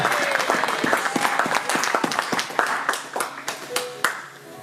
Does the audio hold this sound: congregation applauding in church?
yes